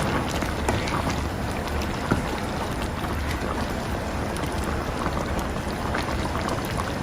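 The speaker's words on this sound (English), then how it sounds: "once it's boiling, so this is now the time that I'm going to stir." Taro simmering in coconut milk at a boil while being stirred in a pot, a steady dense bubbling and churning texture that stays loud and even throughout, with no talking.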